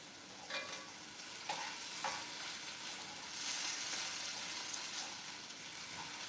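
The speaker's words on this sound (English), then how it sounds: "Just marbleizing the onions and this peach preserve." Onions and peach preserves are stirred in a hot pan, giving a steady sizzle with a few sharp scrapes of the utensil, close up and with no voices.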